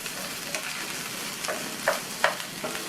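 Raw banana pieces being stir-fried in hot oil give off a soft, even sizzle, with a few light scrapes and clicks of a spatula against the pan near the end. No one talks.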